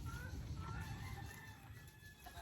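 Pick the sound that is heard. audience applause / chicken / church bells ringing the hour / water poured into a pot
chicken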